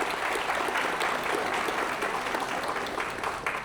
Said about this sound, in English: Please give me a round of applause for Amin Vahdat.